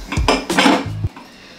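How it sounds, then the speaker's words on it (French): Pots, pans and cutlery clatter and clank in a few quick bursts during dishwashing, close and fairly loud. "je suis en train de faire la vaisselle depuis tout à l'heure"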